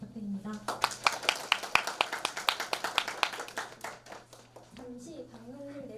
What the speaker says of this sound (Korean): 열띤 토론을 보여준 제1부회장 후보자분들께 큰 박수를 부탁드립니다.